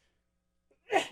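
A single sharp sneeze bursts out near the end after near silence, loud and close, preceded by a faint intake of breath during a casual radio show.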